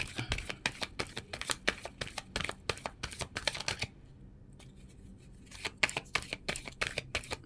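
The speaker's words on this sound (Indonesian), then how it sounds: "Kita akan menebar kartu." Tarot cards are spread out on a table in quick bursts of crisp slapping and shuffling snaps, with a brief quiet pause midway before the rapid card sounds resume, close and fairly soft.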